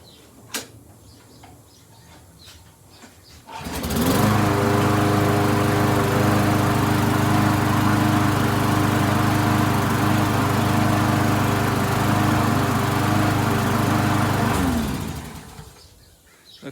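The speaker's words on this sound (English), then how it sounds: "Looks like she's a little bit of a smoker, but we got her going. Didn't turn out to be such a bad mower." Old, slightly smoking lawn mower engine starting and running, a loud steady near drone for about eleven seconds before cutting out, with quiet rustling beforehand.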